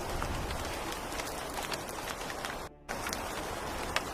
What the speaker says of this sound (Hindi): और तभी हल्की हल्की बारिश भी होने लगती है।